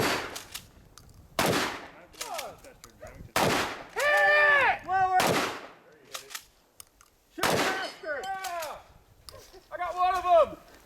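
Shotguns firing at an action side match, several loud sharp blasts spaced apart with echoing tails, mixed with people talking and shouting between shots.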